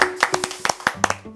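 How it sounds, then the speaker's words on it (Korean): Audience of seniors at a parish senior academy lecture clapping, a scattered burst of sharp individual hand claps from a small group, fairly close. "박수를 쳐야 돼요."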